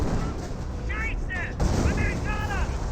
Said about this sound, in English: Now we've got an artillery barrage in this bunker here